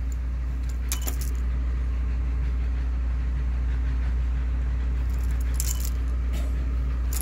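Keys jangle while universal intercom keys are tested at an apartment door intercom, short metallic clinks at the start and again near the end over a constant low electrical hum.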